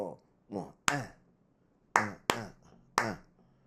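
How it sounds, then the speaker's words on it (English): Hands clap a rhythm, six sharp claps in an uneven pattern with a brief pause midway, close and clear against a quiet background. "Clap with me."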